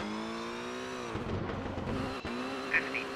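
Rally car engine droning on a snowy Swedish stage in the game Colin McRae Rally 2.0, steady held note that dips and shifts as it changes gear, with a brief skid midway, loud and continuous.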